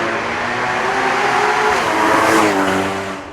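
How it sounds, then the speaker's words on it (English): Porsche Boxster GTS engine revving hard while driving, a loud, continuous rising and falling engine roar heard from inside the car, no speech. "Listen to that motor."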